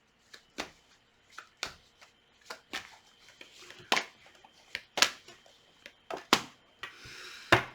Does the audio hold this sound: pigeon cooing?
no